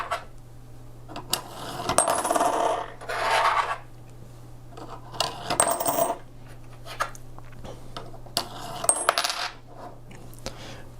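Coins clatter and rattle through a 3D-printed coin sorter in three separate bursts, each a sharp metallic tumble and ring fading to quiet, with a low steady hum underneath.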